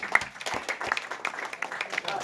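A graduation ceremony crowd gives the graduates another round of applause, a moderate patter of clapping with faint voices mixed in underneath.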